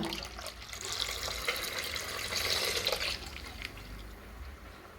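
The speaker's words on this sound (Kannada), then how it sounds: "ನಾನು ತಣ್ಣಗಿರುವ ಹಾಲನ್ನೇ ಹಾಕಿದ್ದೀನಿ ಬಿಸಿ ಹಾಲನ್ನು ಹಾಕಲಿಲ್ಲ" Cold Nandini milk is poured into a ragi kheer mix, making a quiet, continuous liquid pour that swells slightly midway and then tapers off, with no voices.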